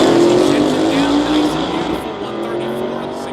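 A 1977 Cadillac Coupe de Ville and a small Chevette drag racing at Sick Week in South Georgia, loud engines roaring and rising in pitch as they pull away and fade slightly, with an announcer talking over them.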